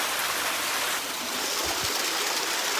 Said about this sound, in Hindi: एक चश्मा ये आ रहा है, कहाँ से निकल रहा है ये